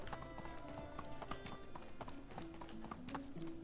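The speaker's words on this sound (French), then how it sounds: "Alors évidemment avec le cheval, c'est beaucoup plus rapide." Horse hooves clip-clop steadily at a riding pace in the medieval game Medieval Dynasty, a close, continuous rhythmic clatter over game ambience and music.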